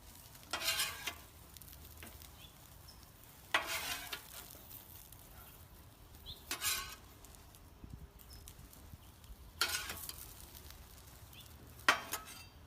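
Okra going into sinigang soup on a Blackstone griddle: a steady faint sizzle with four or five sharp bursts of scraping and clinking of a utensil against metal, spaced a few seconds apart, no talking.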